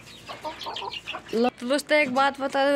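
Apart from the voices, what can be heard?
hen (desi chicken) clucking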